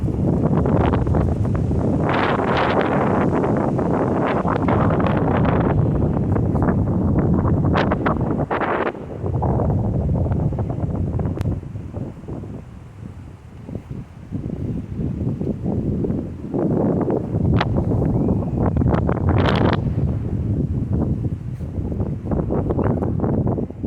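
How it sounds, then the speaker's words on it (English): Strong wind blowing outdoors around a parked van, a loud roaring rush buffeting the microphone in surging gusts that rise and ease over the whole stretch, with no one speaking. "It's really windy."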